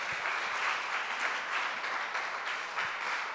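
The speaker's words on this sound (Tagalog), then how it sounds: "Pwede bang pumalakpak ang mga trigo" Worshippers in a church congregation break into sustained applause, a thick wash of many clapping hands that holds steady throughout.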